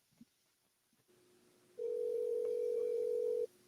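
A telephone call is placed: after a few faint clicks and a quiet hum, a steady dial tone sounds loud and clear for nearly two seconds, then cuts off.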